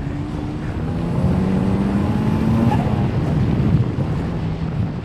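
Turbocharged Exocet track car accelerating on a circuit, a steady engine drone climbing slowly in pitch under heavy wind rush, heard from onboard without talk.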